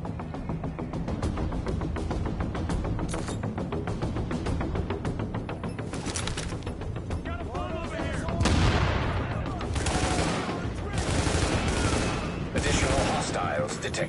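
Gunfire fills a firefight in the video game Tom Clancy's The Division, with rapid automatic bursts and dense overlapping shots running continuously, swelling louder at times.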